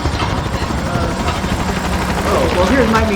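A helicopter gunship in the video game Call of Duty: Modern Warfare, its rotor and engine drone running under gunfire bursts, with a commentator talking over the game sound throughout.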